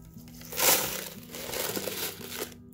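Mosaic-size clear glass frit poured for a fused glass cabochon, a dry crinkly rattling of small glass granules in a few close, soft bursts with brief pauses between.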